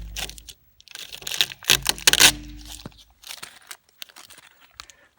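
Keys being grabbed and handled to open the coin door of a GatchaGachamp arcade cabinet: a close, brief burst of jingling and clattering metal, with softer scattered clinks trailing off, no talking.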